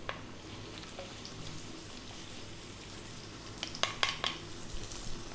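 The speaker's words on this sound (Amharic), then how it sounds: "ሽንኩርታችንን እንጨምራለን፣ ነጭ ሽንኩርት እንጨምራለን።" Onion and garlic frying in hot oil in a pan, a steady soft sizzle running throughout with a few sharper crackles and stirring clicks near the end.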